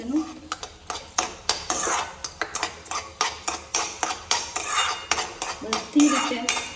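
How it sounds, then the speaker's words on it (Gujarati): A spoon stirs sugar into rava sheera in a metal pan, giving a steady rhythm of sharp scraping clinks, about two per second, close and fairly quiet with a faint sizzle underneath. "બધી રીતે મિક્સ કરી દેવાનું એકદમ"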